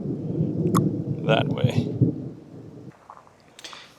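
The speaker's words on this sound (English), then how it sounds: "Some serious lightning and thunder" Deep, rolling thunder rumbles offshore during a storm at sea on a fishing trip, sustained for a few seconds, then fading to quieter patter, with a brief spoken voice partway through.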